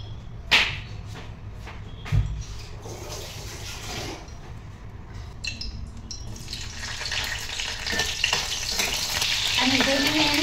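Green chillies drop into hot oil in a home kitchen pan on a single burner, giving a sharp crackle and a steady sizzle that grows louder and busier toward the end, with a few clinks and stirring noises along the way.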